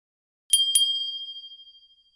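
Two quick bright metallic dings in succession, like a small bell, ringing out and fading smoothly into silence.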